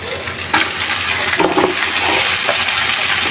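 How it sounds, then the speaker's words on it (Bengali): Chili peppers frying in an oiled pan while beef bhuna is being cooked, a steady close sizzle with stirring scrapes and brief louder crackles, no talking. "এদিকে কিছু মরিচ বেজে তুলে রাখছি"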